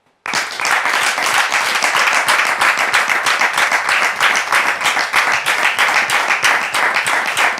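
A studio audience applauds to welcome a guest onto the stage of a French talk show, with loud, sustained, dense clapping that starts abruptly and keeps an even roar throughout.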